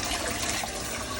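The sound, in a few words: water running from a tap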